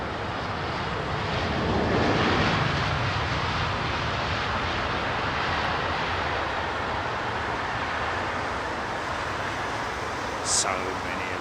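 A jet airliner departs Heathrow runway 27R with a steady, broad engine roar that swells slightly early on, then holds a constant rumble. A brief high tone appears near the end.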